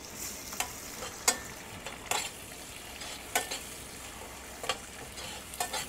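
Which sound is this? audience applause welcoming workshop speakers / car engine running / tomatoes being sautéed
tomatoes being sautéed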